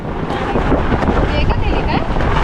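Strong wind buffets the microphone at a food stall near Aare Ware Beach, a loud continuous roaring rumble with gusty swells throughout.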